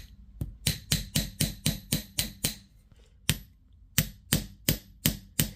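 Hammer strikes ring out on a copper ring being flattened on a metal surface, about a dozen sharp, close metallic taps in a steady rhythm with a short pause midway.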